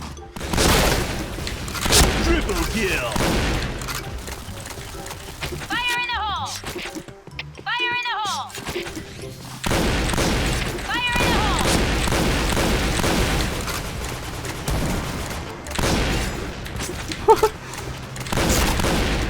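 In a Point Blank deathmatch on a newly added map, dense shooting and booming blasts pile up in long, busy stretches. They are mixed with other game sounds and briefly dip quieter midway.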